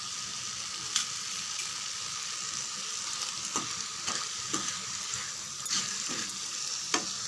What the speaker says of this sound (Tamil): இதையும் சேர்த்து ஒரு 3 நிமிஷம் நல்லா வதங்கட்டும் ஃப்ரெண்ட்ஸ்